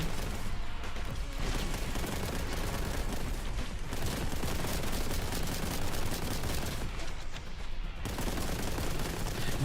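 Enemy fire pours in on the player during a Warhammer 40K Boltgun VR fight, loud and almost nonstop, with rapid gunshots and booming impacts and only a few brief dips in the barrage.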